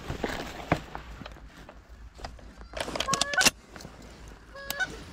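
Geese honk overhead during an evening goose hunt, a few scattered calls then a brief burst of several honks, fairly faint and distant, with rustling and footsteps nearby and people speaking quietly.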